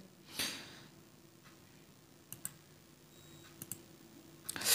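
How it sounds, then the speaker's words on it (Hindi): Several light clicks from tapping a download button on a phone, two soft double clicks spaced a second or so apart, faint over a quiet room, with no talk. "फिर से डाउनलोड पर क्लिक करेंगे यहाँ पर"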